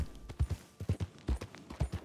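Hooves of a horse recalled in a video game: a quick, uneven series of soft, low thuds in a galloping clip-clop rhythm, close and moderately quiet, with no talking.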